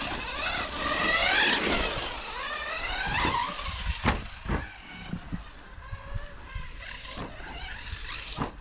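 A Hobao Hyper 10 SC 2.0 short-course RC car on a 2S battery with a 16-tooth pinion runs on a carpet track, its electric motor whining and sweeping up and down in pitch with bursts and brief ticks.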